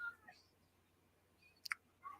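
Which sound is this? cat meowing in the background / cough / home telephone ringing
cat meowing in the background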